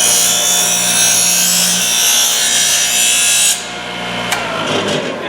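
Thorvie AV-40 sharpening machine grinding the edge of a router bit, a steady broadband grinding whine that runs loud for over three seconds, then drops as the wheel spins on more quietly with a faint tick.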